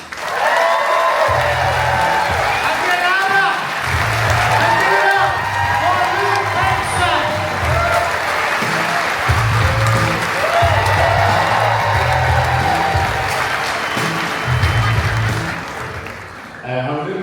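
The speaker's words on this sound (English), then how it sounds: "Would you start the applause," A comedy club audience breaks into loud, sustained applause with cheers and whoops, a dense crowd roar that holds steady for the whole stretch, backed by a thumping low musical beat.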